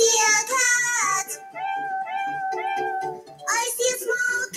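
A cat meowing in a string of drawn-out, rising and falling cries, loud and close, one after another with no other sounds.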